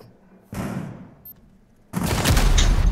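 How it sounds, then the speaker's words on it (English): Gunfire in the Rainbow Six Siege video game: a loud sustained burst starts, fades briefly, then a heavier, denser volley erupts up close and keeps going. "I got shot from multiple angles."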